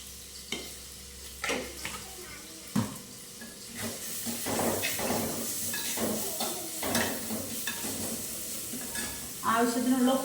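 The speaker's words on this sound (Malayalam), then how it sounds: "പിന്നെ പച്ചമുളക്, ചെറിയുള്ളി, വെളുത്തുള്ളി, സവോള ഒക്കെ ഇട്ട് നല്ലോണം വഴറ്റിയെടുക്കുക കേട്ടോ." Green chillies, shallots, garlic and onion sauté in hot oil with a steady sizzle and hiss, broken by repeated scraping and knocking of a spoon stirring the pan, heard close and without talk.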